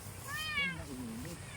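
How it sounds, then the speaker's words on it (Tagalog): Hungry house cats meow on a rice farm, one drawn-out rising and falling cry followed by a lower, softer mew, close by over quiet outdoor background. "Ito talaga itong mga pusa namin, oh. Gutom na yan."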